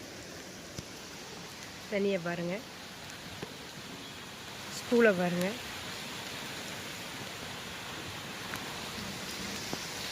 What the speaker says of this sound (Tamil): சரியான மழை இன்னைக்கு பாருங்கள்.